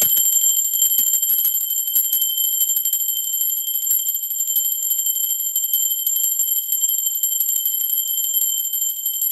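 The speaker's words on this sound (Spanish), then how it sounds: "Ahora sí, va campana." Bell ringing with a steady, bright metallic tone that keeps sounding for the whole stretch, loud and unbroken, with no voices over it.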